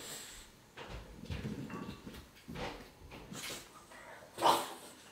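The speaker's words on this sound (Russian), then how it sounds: "Дуже умна собака." A dog whimpers and whines indoors in several short, uneven bursts, with a louder yelp-like cry near the end.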